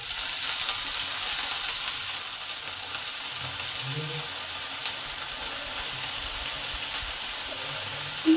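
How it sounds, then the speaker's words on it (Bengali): Potatoes frying in hot oil with cumin, black cumin and chillies, a steady, even sizzle hissing alone without a break. "আলু ভাজা হচ্ছে"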